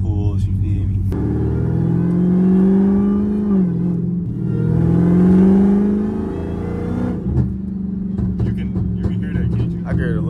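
A Dodge Hellcat with a ported supercharger snout accelerates in two long pulls, its engine note climbing with a whirring supercharger whine, close and loud, and people talk briefly near the end.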